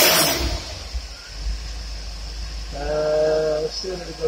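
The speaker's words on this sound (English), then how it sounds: "I'm going to rev it up a couple times here." An engine fitted with a Quick Fuel four-corner idle carburetor, idling around 700 to 800 RPM, gets revved a couple of times, a rumbling idle rising into a brief, harmonic surge and easing back near the end.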